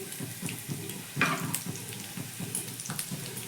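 Chopped onions and grated coconut fry in a pan while being stirred, a steady soft crackle with a brief louder scrape partway through, close and alone without voices.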